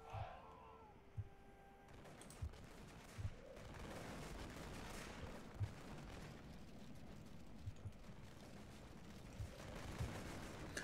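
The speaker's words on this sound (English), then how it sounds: "So let's set up our gunmen a bit closer. Okay, so they start firing." Gunmen fire in the medieval Japan setting of Rome Total War with the Ran No Jidai mod, sharp scattered gun reports popping every second or two over a steady roar of battle ambience, no talk heard.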